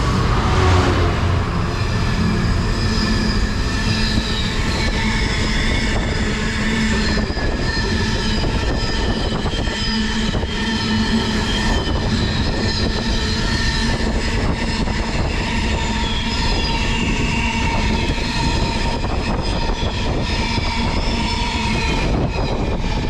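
Freightliner Class 66 diesel freight locomotive hauling wagons through Birmingham International on the West Coast Main Line, a loud, sustained rumble of engine and rolling wheels with rising tonal whine and steady clatter throughout.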